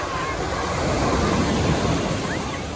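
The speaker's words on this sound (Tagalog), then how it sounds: "Ayan, grabe yung alon. Napakalakas." Strong ocean waves surge and crash continuously at Repulse Bay, Hong Kong, a loud steady roar of surf with wind buffeting the microphone.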